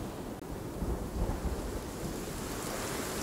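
Heavy rain and rumbling thunder in the survival game Sons of the Forest form a loud, steady wash of downpour with a deep rolling boom swelling near the middle, no voices over it.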